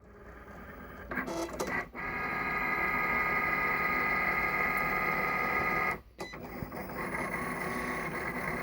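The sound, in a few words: Cricut cutting machine cutting gasket material, 3 passes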